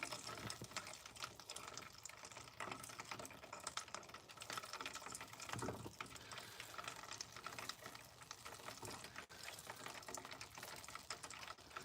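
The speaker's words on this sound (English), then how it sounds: "Notice how there's still big bubbles. I'm going to stop talking so you can listen." Butter simmers in a pot while ghee cooks, giving a dense, steady crackle of popping bubbles close by and fairly loud, with no talking over it.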